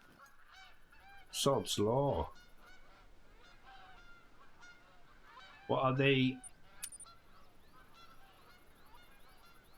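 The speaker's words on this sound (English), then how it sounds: "The whole load of bloody geese in there." Canada geese honking in the TruHunt hunting video game, two loud bursts of repeated honks several seconds apart over quiet ambience, with someone talking briefly.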